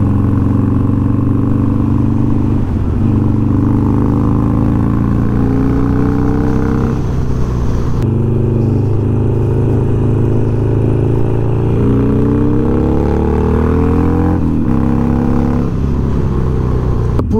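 A tuned Harley-Davidson 1200XR V-twin motorcycle engine runs loud and close while riding, a smooth deep throbbing rumble that rises and falls through several revs and gear changes.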